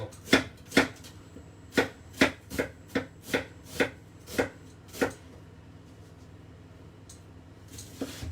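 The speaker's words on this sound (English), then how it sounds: "I'm going to chop this up." A kitchen knife chops a small red onion on a cutting board: about a dozen crisp, close thuds in a quick, uneven run, then a pause and one last chop, with no talking.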